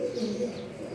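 Soft, low cooing from pigeons in a breeding loft with newly hatched squabs, brief and close by.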